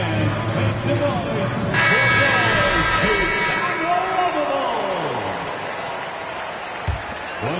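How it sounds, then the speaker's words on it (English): Sustained crowd applause fills a large basketball arena, steady and loud at first, then gradually fading, with announcer-style talk and a brief sharp noise near the end. "Once again, a big round of applause."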